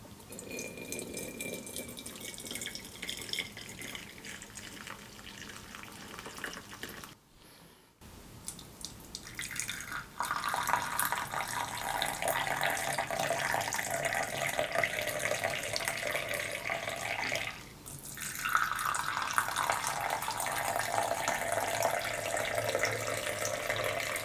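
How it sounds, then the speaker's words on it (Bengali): Tea poured through a strainer makes a steady, fairly loud liquid stream that breaks briefly, then resumes fuller and splashier for a long continuous pour. "তো চাটাকে আমরা ছেঁকে নিচ্ছি।"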